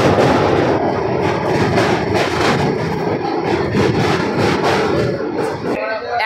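A passenger train pulling into Dakshineswar station on a busy day: a loud, steady rumble and rail clatter mixed with crowd noise, close and continuous, easing slightly at the very end.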